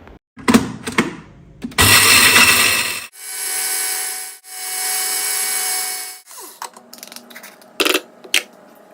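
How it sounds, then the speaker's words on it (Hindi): An electric grinder whirs through a roasted homemade cerelac mixture in two loud, sustained bursts, framed by clattering and knocking from handling the jar. "देन हम इसको किसी भी ग्राइंडर में डाल के ग्राइंड करेंगे"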